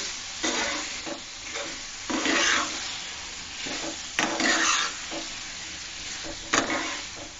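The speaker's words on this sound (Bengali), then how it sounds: "ডিমটাকে দিয়ে একটু নেড়ে দিচ্ছি" Fried eggs being stirred into a tomato sauce in a sizzling pan, with a spatula scraping in repeated strokes about once a second over a constant frying hiss; no one speaks.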